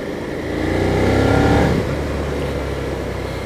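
A Suzuki SV650 V-twin motorcycle engine revs close by, rising to a loud peak, then dropping back to a steady rumbling idle.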